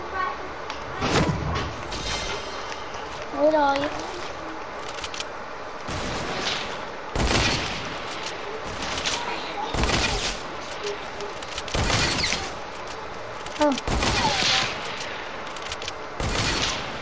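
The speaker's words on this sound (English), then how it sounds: "Use your hunter rifle." Hunting rifle fired in a video game, several loud sharp shots spaced a couple of seconds apart over game noise, with a voice talking between them.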